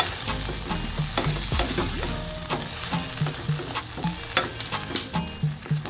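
Shrimp and squash stew in coconut milk bubbling and sizzling in a pot, with steady crackle broken by a repeated rhythmic scraping of a spoon against the pot, close and moderately loud, with no voices.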